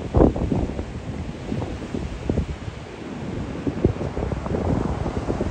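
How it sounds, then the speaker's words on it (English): A tropical storm pounds Crescent Beach as steady surf roars under gusty wind that buffets the microphone in loud, irregular bursts throughout. "the waves start coming up high and moving these structures around"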